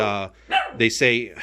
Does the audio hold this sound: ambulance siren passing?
no